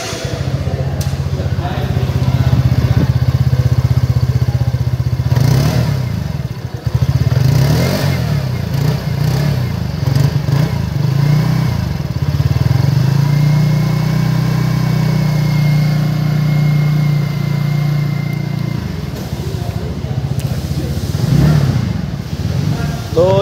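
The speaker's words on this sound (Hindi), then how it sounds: "तो ये रही इस स्कूटर की आवाज़" A 2023 TVS Ntorq scooter engine idles and revs up several times, close by, with occasional sharp blips and a voice speaking briefly partway through.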